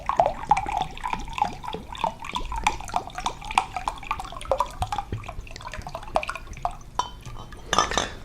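Spring water poured into a blender, a gurgling, glugging stream with rhythmic splashes and rising pitch as the jar fills, ending with a brief clatter.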